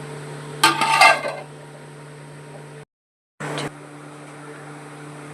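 A lid is set onto a cooking pot of chicken curry with coriander leaves, giving one brief metallic clatter near the start under a steady hum, followed by a short dropout and another faint clank.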